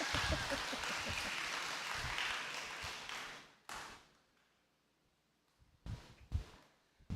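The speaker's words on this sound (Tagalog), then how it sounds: "Ang hina naman ng palakpak na yan." Applause from a church congregation at a Sunday worship service, a dense spread of clapping for about three and a half seconds that fades out, followed by a few scattered claps and taps.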